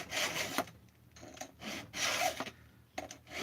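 A hand file sharpens a nearly new chainsaw chain, about five strokes per side, making rhythmic rasping scrapes in close succession with short pauses between passes.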